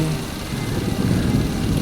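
Heavy rain pours steadily in a dense, even wash of noise, with a low rumbling undertone like distant thunder, setting a stormy scene in a horror story.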